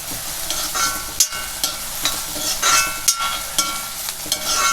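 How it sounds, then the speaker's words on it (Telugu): Onion pieces frying in a pan for a tamarind-leaf chicken curry, a steady close sizzle with occasional scraping stir strokes and small crackles throughout. "ఉల్లిపాయ ముక్కలు ఎలా వేగినాయో చూద్దామండి"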